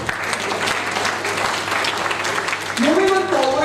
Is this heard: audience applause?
yes